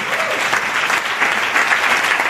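A church congregation applauds loudly and continuously, a dense steady clatter of many hands clapping together with no pauses and no speech over it.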